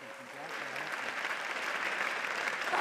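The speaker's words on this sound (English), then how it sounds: "Let's give them another round of applause." Sustained audience applause at a city celebration event, a steady wash of clapping that swells slightly over a few seconds with no talking over it.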